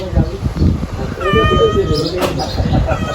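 A cat meows once over steady background noise, with a person talking nearby.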